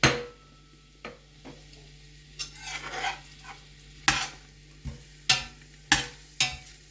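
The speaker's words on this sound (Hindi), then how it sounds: "प्याज को ब्राउन करेंगे अच्छा सा" Two chopped medium onions fry in hot oil for mutton pulao, a steady sizzle running throughout, broken by sharp clinks and scrapes of a spoon stirring against the pot at irregular intervals.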